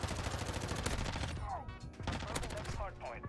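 Rapid gunfire in a Modern Warfare 2 gunfight with a Lachmann submachine gun, sustained and dense throughout, with overlapping shots and game effects and a voice faintly mixed in.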